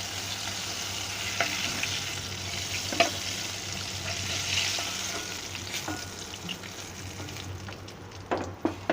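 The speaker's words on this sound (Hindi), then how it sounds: "ये देखिए हमारी पापलेट मच्छी फ्राई हो चुकी है।" Pomfret fish frying in hot oil for a fish curry, a steady close sizzle with a few light stirring clicks and a brief clatter near the end, no voices.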